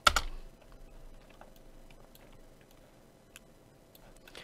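Computer keyboard typing, a quiet scatter of light clicks after a louder opening tap, sparse and close.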